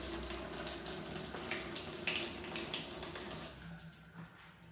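Water pours from the faucet of a freestanding bathtub in a shop house living quarters, a steady close hiss and splash that runs continuously and eases slightly near the end, with no talking.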